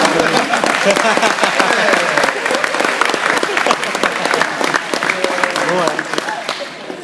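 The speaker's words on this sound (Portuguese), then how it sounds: "Dá uma salva de palmas aí, ó, rapaz" A room full of people breaks into a round of applause, loud and close with distinct sharp claps, while talk and laughter run through it before the clapping thins slightly at the end.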